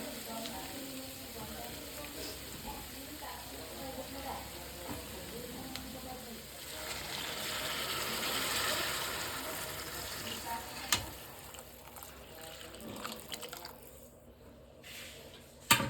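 Hot water poured into vegetables frying in a pan for vermicelli upma, a quiet hissing sizzle that swells and then settles, with a few light clinks near the end.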